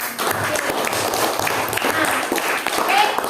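Classroom students clapping their hands together during a lesson: a brisk, fairly loud patter of many small hands, with a few voices mixed in.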